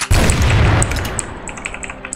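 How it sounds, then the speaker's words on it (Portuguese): A video game grenade goes off with one loud, close boom that rolls into a fading rumble, followed by faint scattered pops. "Toma essa granada aí também."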